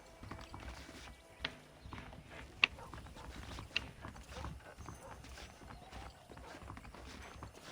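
Soft, rhythmic horse hoofbeats clip-clop along at a steady walking pace in the video game Red Dead Redemption, with a few sharper clicks over a low rumbling background.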